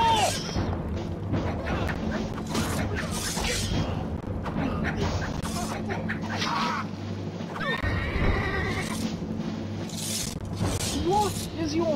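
Horses neighing and hooves pounding in the medieval strategy game Stronghold Crusader, repeated loud whinnies over a steady clatter of galloping, with battle booms and voices in the mix.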